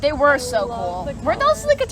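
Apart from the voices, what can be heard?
None of the usual background noises is heard.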